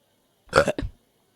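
A single loud, close burp in two quick bursts, alone in silence.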